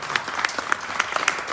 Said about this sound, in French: Applaudissements pour Emmanuel Jardin